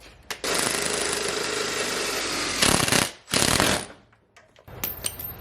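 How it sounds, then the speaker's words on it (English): A power drill bores into a truck bumper in loud, sustained bursts of harsh grinding and rattling, with brief pauses between runs and a short quiet stretch near the end. "now we are about to drill the bumper"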